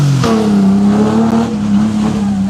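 A Subaru Impreza rally car on a night stage of the Cliffhanger rally roars past at high revs, loud and close, its engine note holding steady and then falling away as it goes by.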